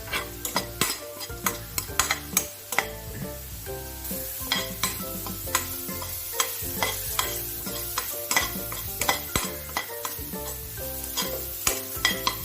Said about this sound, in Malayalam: ഇനി നമ്മൾ അരച്ചു വെച്ചിരിക്കുന്ന ആ ഇലകളുടെ പേസ്റ്റ് ചേർക്കാം